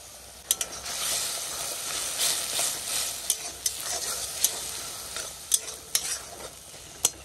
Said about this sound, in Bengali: এই যে মশলা ভাজা ভাজা হয়ে গেছে